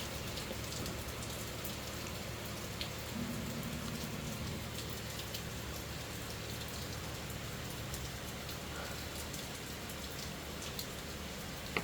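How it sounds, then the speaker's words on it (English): A sustained downpour of morning rain in Jamaica, dense and even, with drops pattering on nearby surfaces throughout and a faint vehicle rumble briefly underneath; no one speaks. "the rain is coming down"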